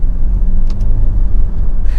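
A 2022 Nissan Altima 2.0 SR VC-Turbo with a CVT drives under power as it is shifted into third gear, giving a steady, loud low engine rumble heard from inside the cabin with faint hiss above it.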